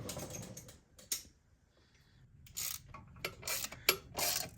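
A ratchet tightens header bolts on a Toyota 4Runner's 5VZ-FE engine, giving short bursts of rapid clicking separated by pauses, close up and fairly quiet.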